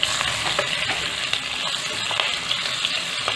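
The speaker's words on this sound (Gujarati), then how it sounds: "તેને સરસ તેલમાં સાતડવાની છે।" Chopped onion, cumin and a pinch of asafoetida frying in hot oil for capsicum sabzi: a dense, continuous close sizzle with crackling pops and occasional stirring scrapes, no voices.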